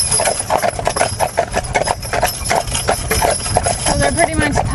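Percheron draft horses walk with a steady, rhythmic clip-clop of hooves, close and clear, with a rattling, continuous background throughout.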